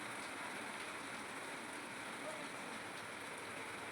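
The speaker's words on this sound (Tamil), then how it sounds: "இந்த தோட்டத்தில் பாருங்கள் எப்படி மழை பெய்யுதுன்னு" Rain falling on a home vegetable garden, a faint, steady, even hiss of many drops with no pauses or changes across the whole stretch, and no one speaking.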